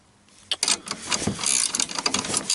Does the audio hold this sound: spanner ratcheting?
yes